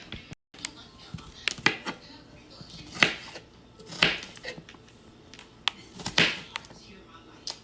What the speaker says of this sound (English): chop down the onion, and then add them in there